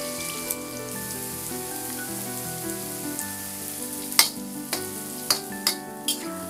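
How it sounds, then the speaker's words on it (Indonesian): Steady crackling sizzle of cut tofu and shallot frying in hot oil, with a few sharper pops and spatters toward the end; no talking. "Pertama kali kita goreng adalah tahu yang sudah dipotong-potong tadi."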